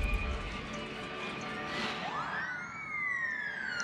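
A police car siren from the SimCity city-building game wails briefly, rising and then holding over faint background game sounds.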